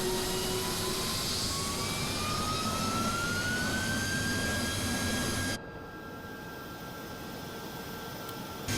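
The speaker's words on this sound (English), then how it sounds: "Alright, engine 2." Jet engine of a B-2 Spirit bomber spooling up in Microsoft Flight Simulator 2020: a steady roar with a rising whine that climbs and levels off, then cuts abruptly to a quieter hum.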